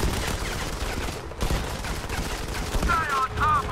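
An enemy turret fires in the Modern Combat 5: Blackout video game, sustained rapid gunfire rattling loudly and steadily through the whole stretch, with brief whistling tones near the end.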